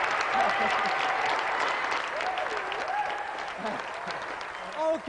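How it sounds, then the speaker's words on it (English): Sustained applause from a studio audience rolls on at a moderate level while a voice speaks over the clapping. "So let's give another round of applause"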